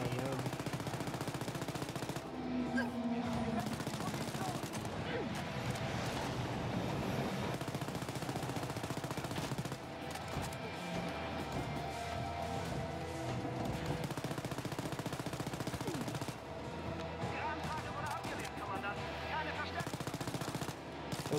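Gunfire in the co-op shooter Wolfenstein: Youngblood, with long, dense machine-gun bursts and a steady crackle of shots under loud game noise that runs for the whole stretch, with players talking now and then.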